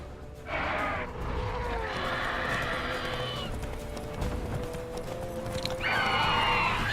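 In The Witcher 3 video game, a horse gallops with rhythmic clip-clop hoofbeats and gives loud, drawn-out neighs over a continuous background.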